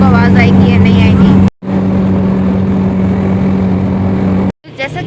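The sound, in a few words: noisy vehicle moving on the road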